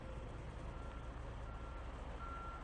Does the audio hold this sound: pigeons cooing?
no